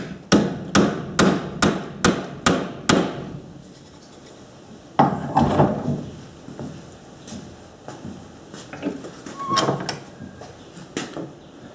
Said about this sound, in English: And this one you do with a hammer.